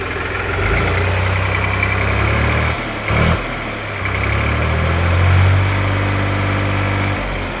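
A 2015 New Holland 3600-2 tractor engine idling close by, a steady loud diesel rumble with a low throb that dips and swells slightly, with a couple of brief knocks partway through.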